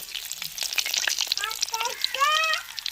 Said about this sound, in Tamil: எண்ணெய் சுடாச்சுங்க கடுகு போட்டுக்கிறோம் ரெண்டு கருவேப்பிலை போட்டுக்கிறோம்